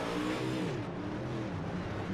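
A dirt track race car laps Fairbury's short track, its engine droning and revving at a distance, a steady faint roar that shifts pitch as it goes around.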